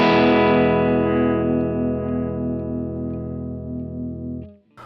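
Stratocaster electric guitar with the neck and middle pickups blended, one strummed chord ringing out loud and sustained with a shimmering, chorus-like tone before it cuts off abruptly.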